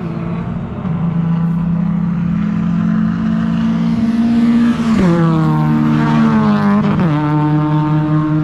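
Race cars at a track night circuit pass close by, a loud sustained engine drone with pitch sweeps as they change gear and accelerate past, continuous throughout.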